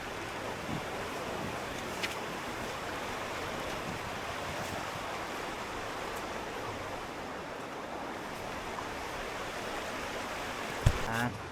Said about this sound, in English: And Waterfalls.